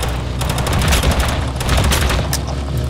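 Rapid gunfire in the video game Totally Accurate Battlegrounds: loud, dense bursts of shots and booming reports crowd together without pause across the whole stretch.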